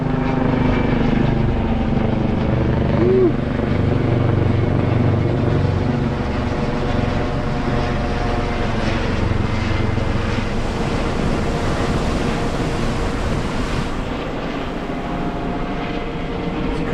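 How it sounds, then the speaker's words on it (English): A Coast Guard helicopter circling over a remote stretch of coastline, heard as a steady, loud rotor and engine drone mixed with wind rush, sustained throughout and fading slightly near the end, with no voices. "Coast Guard helicopter."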